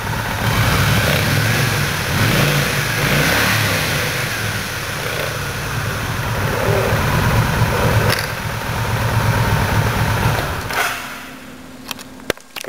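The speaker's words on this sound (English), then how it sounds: "Very nice sounding engine out of that 1600." A 2008 Kawasaki Vulcan Mean Streak 1600 Special Edition motorcycle engine revs loudly and close by, rising and falling through repeated throttle blips for about eleven seconds before cutting off.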